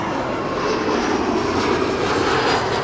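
Airliner SP-LIB arriving at Amsterdam Schiphol from Warsaw, a steady loud broadband engine roar held close and constant throughout, with no voices.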